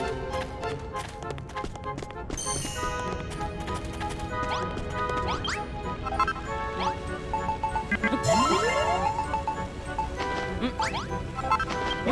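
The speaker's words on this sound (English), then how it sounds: "Pop one of those on any wall you want the hammer to break through, and it'll start smashing away" Dragon Quest Builders 2 smashing signs set a hammer breaking through walls, heard as repeated sharp crashes and thwacks amid busy game sounds and music, with rising tonal effects, no talking.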